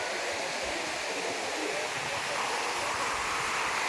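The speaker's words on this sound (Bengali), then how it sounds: "যা হাওয়া বন্ধুরা কি বলবো প্রচণ্ড হাওয়া" Strong wind sweeps across Baga Beach in Goa, making a loud, continuous rushing roar that stays unbroken for the full four seconds.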